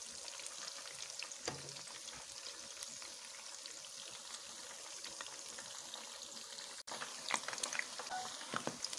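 Spinach pakoras fry in hot oil over a medium flame, a steady soft sizzle running throughout with occasional light pops and crackles, close by and unaccompanied by speech.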